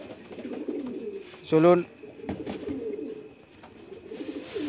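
Teddy pigeons coo in one short, clear, throaty burst partway through. Someone talks over the continuous murmur of other birds around it.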